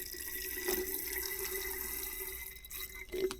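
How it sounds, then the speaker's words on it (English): Water runs into a container in a soft, steady trickle with a couple of faint drips, quiet and close with no voices. "water going into a container"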